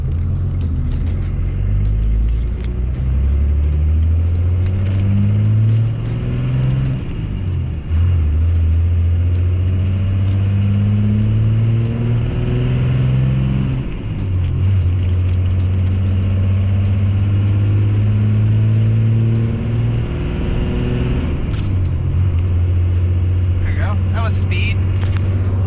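A Cummins diesel truck fitted with a large turbo pulls a trailer on the road, its engine droning low and steady from inside the cab with shifting pitch, while someone talks over it.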